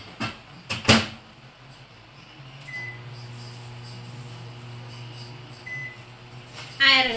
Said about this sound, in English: So I'm going to do that for 5 minutes in the microwave.